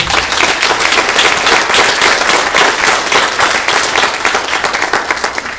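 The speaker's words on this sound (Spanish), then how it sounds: "Un aplauso al Señor" A church congregation breaks into sustained applause, dense steady clapping from many hands filling a large room for several seconds.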